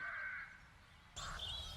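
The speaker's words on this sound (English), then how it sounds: "start to deal with those crows already" Crows caw harshly in The Dark Eye: Chains of Satinav video game, with overlapping calls filling the whole stretch and a fresh, brighter burst of cawing near the end, with no talk over them.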